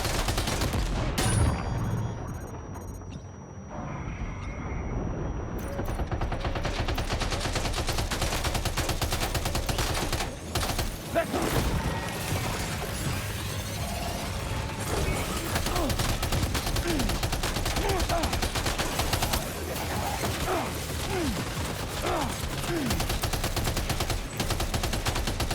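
Continuous machine gun fire aimed at ghostly mechs in Death Stranding 2 rattles loud and steady for the whole stretch, with dense repeated shots and impacts layered over a busy game soundscape.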